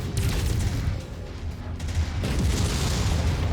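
Missile explosions in the MechWarrior 5: Mercenaries video game, a dense barrage of heavy booms and blasts rolling continuously and loudly, with a brief lull midway before the impacts resume.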